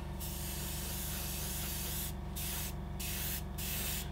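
Lacquer paint is sprayed in light coats onto a Meng glue-free P-51D model kit: a steady, close hiss that runs continuously with a few brief gaps near the end.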